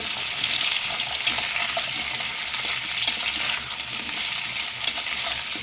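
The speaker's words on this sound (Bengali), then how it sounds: "এবার হালকা একটু নাড়াচাড়া করে নেবো" Pumpkin frying in a pan while being stirred, a loud, dense, continuous sizzle with soft scraping of a spoon mixed in, close and steady throughout.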